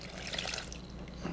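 A mixture of yeast, olive oil and water is poured into a food processor for focaccia dough, giving a brief, soft liquid trickle and splash up close, with no talking.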